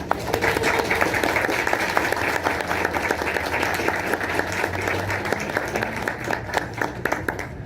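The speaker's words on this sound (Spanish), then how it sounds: "Un aplauso para Alicia," An audience claps for Alicia at a talk at UNAM, a sustained crowd of many hands with distinct sharp claps standing out, loud and steady throughout, with faint voices underneath.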